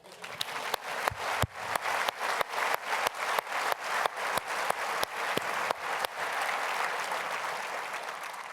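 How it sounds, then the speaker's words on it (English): Audience applause at a university president's State of the University address, a dense crowd clapping steadily with sharp individual claps standing out, loud and sustained before easing into a softer continuous patter. "Let's applaud that."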